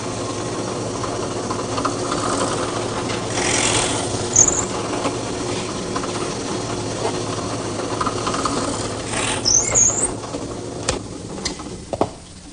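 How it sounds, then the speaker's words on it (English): A drill press bores a pilot hole and a counterbore in wood, giving a steady motor whine and grinding hum throughout with a few sharp ticks and squeaks near the end. "I'm using my drill press and this little device"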